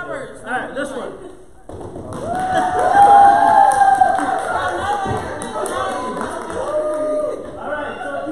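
A school presentation audience cheers for the Starburst team, a noisy crowd of children shouting and whooping that swells loudly after a brief lull and stays lively to the end.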